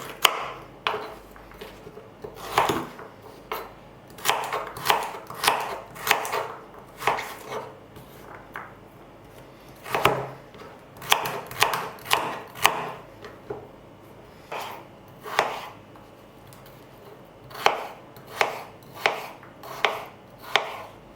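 A knife dices carrots into cubes on a cutting board, chopping rhythmically in quick bursts of sharp taps with short pauses between runs, close and clear with no talking.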